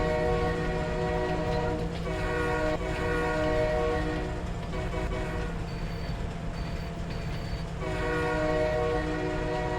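In the Farming Simulator 25 video game, a lime and fertilizer train rolls through a road crossing with a loud, steady rumble and sustained horn tones, a few short higher horn blasts, and a steady rail clatter throughout.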